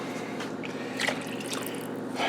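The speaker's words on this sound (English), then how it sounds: "So what we're going to do is add the water. 1 cup, 2 cups, 3 cups, and 4 cups of water." Water poured into a cooking pot of browned chicken for a stew, a steady, soft liquid trickle and splash that runs for a couple of seconds, with no talking.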